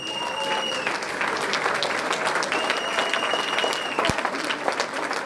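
A standing audience at a French-language presidential campaign announcement conference applauds steadily, a thick wash of clapping with a few whistles and cheers rising above it.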